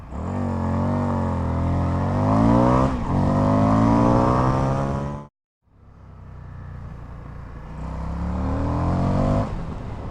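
An Indian FTR 1200 S Race Replica motorcycle revs hard from a standstill in a 0–100 acceleration run, pitch climbing through gear shifts, then a brief silence before the engine roars up again, loud and close.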